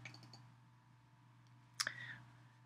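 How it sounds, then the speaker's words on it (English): A computer mouse gives a sharp double click during a software installation, quiet and close over a faint electrical hum, with a few fainter clicks earlier. "Click there."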